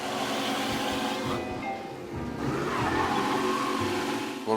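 Corzella car in Mafia: Definitive Edition, its engine droning steadily with shifting pitch as it drives, mid-level and continuous with a brief dip partway through.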